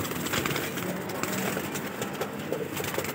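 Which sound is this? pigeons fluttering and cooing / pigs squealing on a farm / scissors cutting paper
pigeons fluttering and cooing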